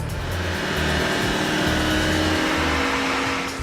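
A car engine strapped to a dynamometer and run through the gears under load, roaring as a loud, steady, continuous drone with no talk.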